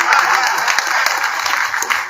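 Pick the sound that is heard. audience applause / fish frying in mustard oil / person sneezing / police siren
audience applause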